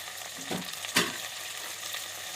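Onions and ginger garlic paste sautéing with a handful of mint in a pot for cooker chicken biryani, a steady close sizzle broken by a couple of sharp stirring clatters, no talk.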